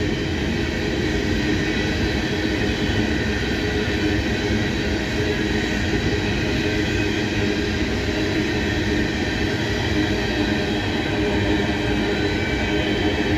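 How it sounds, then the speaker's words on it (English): A steady, loud rumble of a passing southbound freight train with a constant grinding of wheels on freshly ground rails, unbroken throughout and with no voices. "you can hear the rails grinding over there."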